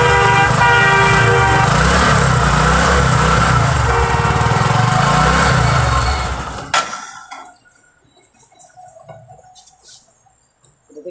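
A Bajaj Discover 125 motorcycle with a CDI fault runs loud and close with a steady, buzzing engine note for about six seconds, then cuts out abruptly, leaving a few faint clicks and rattles in near silence.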